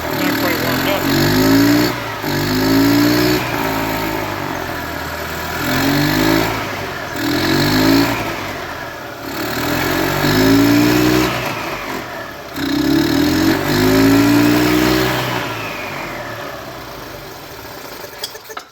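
A golf cart engine fitted with a cheap aftermarket Amazon carburetor, still cold after choke-off, revving in repeated rising surges between dips back to a rough idle, loud and close.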